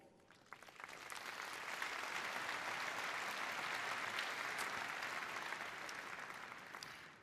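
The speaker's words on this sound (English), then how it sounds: "Big applause to all of you." Audience applause at the Cisco Live 2025 opening keynote: a large crowd claps in a dense, even roar that swells over a second, holds steady, and eases slightly toward the end, heard at a distance.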